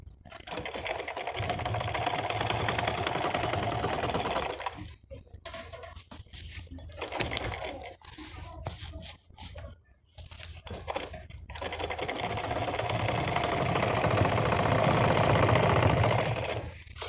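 Sewing machine stitching stretched elastic onto a saree, running in two long loud steady bursts with a stretch of quieter handling and short stops between them.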